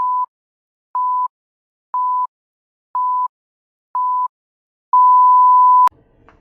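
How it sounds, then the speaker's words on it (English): Countdown timer beeps: five short, evenly spaced tones about a second apart, then one long held tone, loud and isolated, ending in a brief burst of noise. "countdown timer, can't miss it"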